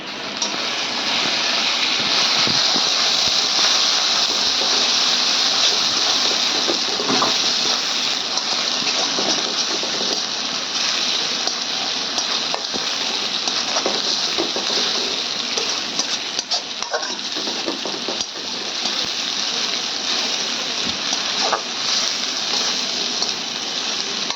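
Pieces of shrimp fry in hot oil, giving a steady, dense sizzle that runs without break for the whole stretch. It sounds close and fairly loud, with faint clatter now and then.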